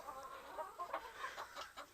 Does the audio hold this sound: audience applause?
no